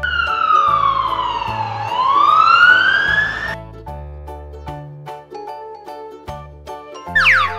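A toy police car siren wails with a rising and falling electronic tone, then gives way to a tinkly jingle tune.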